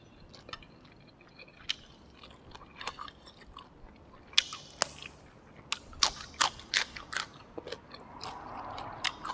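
Tender, crisp winged beans crunch between the teeth, with a series of sharp, close bites and chewing crackles that grow denser toward the end over quiet background, with no talking.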